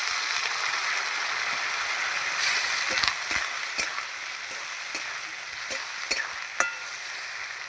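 Ginger and cumin spice paste frying in a pan for a fish curry, a steady close sizzle with intermittent scraping stirs and light clinks throughout.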